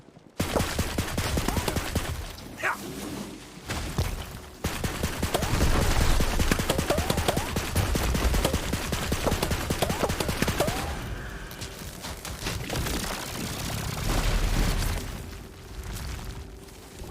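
SMG fire in the Tiny Tina's Wonderlands shooter, a long stretch of loud, rapid bursts mixed with booming impacts and explosions, nearly continuous with brief lulls.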